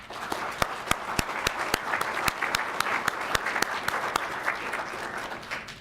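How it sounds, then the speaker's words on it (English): An audience at a town meeting in Addison applauds its speakers with steady, dense clapping. A few sharp, louder claps stand out close by over the general patter of hands, which holds evenly to the end. "Let's give them a round of applause, please"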